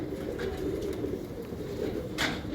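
Pigeons coo in low, steady murmurs throughout, with a soft flutter or brush of wings near the end.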